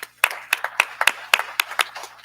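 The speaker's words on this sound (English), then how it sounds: "Let's give him a round of applause." A small audience at a university board of supervisors meeting claps, giving a brief round of applause with about a dozen sharp, evenly spaced claps, fairly quiet and close.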